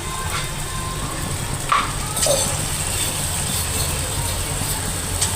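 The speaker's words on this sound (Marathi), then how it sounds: "तर आता दिव्या एक एक पकोडा छान तेलामध्ये टाकत आहे बनवून।" Small moong dal pakoras frying in hot oil make a steady broadband sizzle with a low rumbling bed beneath it, holding evenly throughout with a few brief pops and faint voices nearby.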